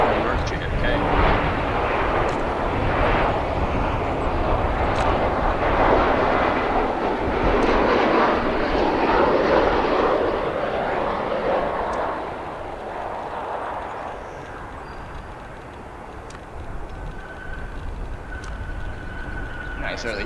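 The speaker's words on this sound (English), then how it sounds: "We're going to come over to our next aircraft, JetBlue Embraer 190, flight 1105" A JetBlue Embraer 190 jet lands at O'Hare airport, a loud, broad engine roar that holds steady and then eases as the plane passes, with a voice talking over it.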